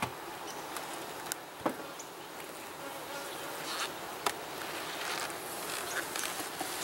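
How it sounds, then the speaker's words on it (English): Honeybees swarm around an opened, strongly queened hive that has been making a lot of honey, their dense steady buzzing filling the air, with a few brief clicks and knocks of hive equipment. "First look, decent amount of bees."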